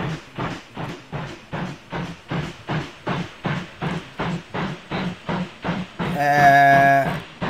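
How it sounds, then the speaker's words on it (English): A steam locomotive in the Mashinky train game chuffs in a regular rhythmic beat of hissing exhaust puffs, then a loud, sustained whistle blast sounds near the end. "You can hear that train pumping its volume there."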